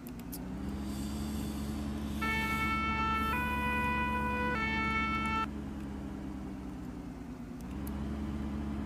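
A French ambulance siren on the way to a road traffic accident, its two-tone wail rising loudly over a running vehicle engine for a few seconds before cutting off, leaving the engine hum.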